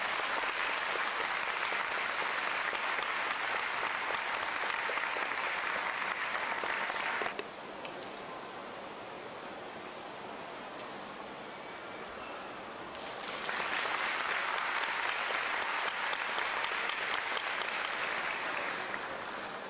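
Dense, sustained applause fills a Seoul National University graduation ceremony, loud crowd clapping that dips to a quieter stretch midway before swelling back to full strength.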